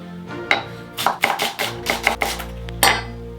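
A knife chops through onion halves on a board in quick uneven strokes, close and crisp, with a low hum underneath and no voices.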